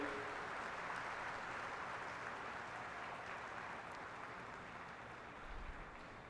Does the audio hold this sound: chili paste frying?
no